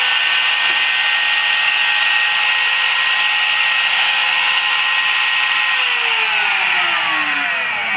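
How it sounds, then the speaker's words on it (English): A CNC spindle motor switched on through GRBL-controlled relays, running as a steady loud whine with stacked tonal lines, its pitch sliding and shifting near the end as the motor changes speed. "what you see is the spindle turns on"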